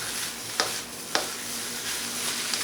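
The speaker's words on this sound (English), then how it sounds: "You just want to fluff the rice and let it fry within the wok" Shrimp fried rice sizzling steadily in a hot wok, a constant close frying hiss with a few sharp clinks from the utensil as the rice is fluffed and tossed; no one talks.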